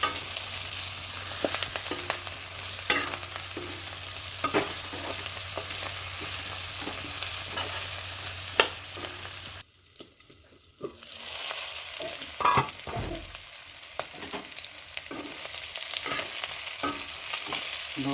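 Cumin, garam masala mix and chillies fry in hot oil for a pork dish, a constant crackling sizzle with repeated scraping stirs of a spatula, briefly muffled midway, then sizzling and stirring resume.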